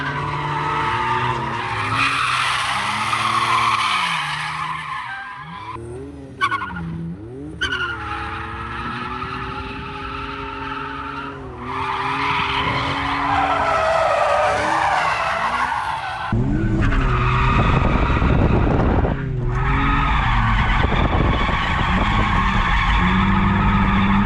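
A BMW E46 wagon drifting, tires squealing and skidding loudly and continuously while the engine revs rise and fall under throttle, recorded close and dense with noise throughout, without talk.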